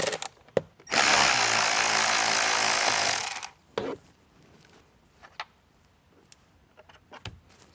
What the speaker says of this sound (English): We're going to go ahead and take the screws out from this passenger side.